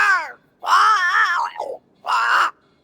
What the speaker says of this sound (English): It's Ceridian, by way of the invisible, speaking through the crow.